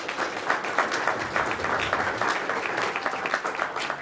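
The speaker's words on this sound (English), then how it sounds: "let's give a big round of applause for everybody that advanced past this round" Steady, dense applause from a meeting audience for those who advanced past a competition round, continuous and even throughout with no gaps.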